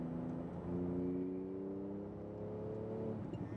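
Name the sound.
Porsche 911 GT2 RS engine accelerating on track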